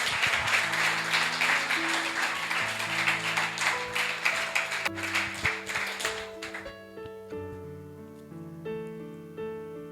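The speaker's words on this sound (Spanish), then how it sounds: "Dale fuerte ese aplauso a él" A church congregation claps over a sustained organ or keyboard chord for several seconds, the applause thinning into scattered claps before it stops and leaves the music playing alone.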